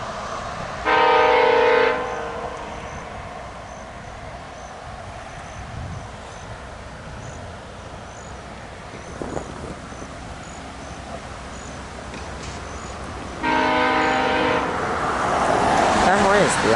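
A VIA Rail passenger train passes with a steady rumble of wheels, sounding its horn in two loud, sustained chord blasts, one near the start and another near the end, with crickets faintly in the background.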